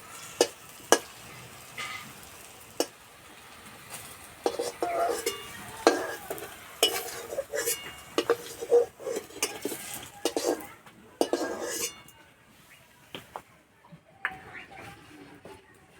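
Cauliflower koftas fry in oil over medium heat, a soft sizzle under repeated sharp clinks and scrapes of a spoon against the pan, with quieter gaps toward the end.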